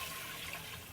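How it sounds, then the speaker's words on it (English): Eight cups of water pour steadily into a soup pot to start a homemade chicken noodle soup broth, a continuous close rushing splash lasting under a second. "you're going to go in with 8 cups of water"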